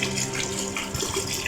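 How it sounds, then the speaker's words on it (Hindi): About a litre of water pours into a pot of whole masoor dal, a steady splashing gush running continuously at close range with no talking over it. "ये जी पानी चला गया इसके अंदर।"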